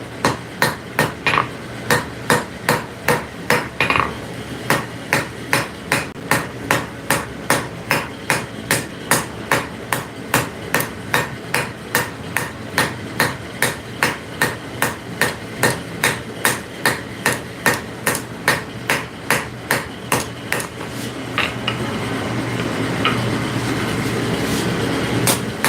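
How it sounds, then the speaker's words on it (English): A light hammer strikes a hot metal pointer wand on an anvil in a steady, evenly spaced rhythm of crisp ringing taps, dozens in a row, before the blows stop and a low hum remains. "Light hammer strikes on this because we're just fine tuning."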